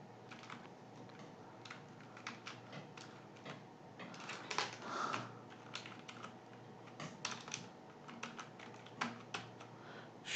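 Computer keyboard typing, entering a thank-you message while setting up an online shop, comes as a quiet, uneven run of light clicks and taps with brief flurries and pauses and no talking.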